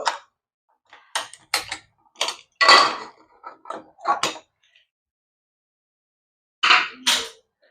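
Metal lid of a pressure cooker, cooled after two whistles of tomato rice, is worked open in a run of sharp clicks, taps and clanks, then a pause and two louder metallic knocks near the end.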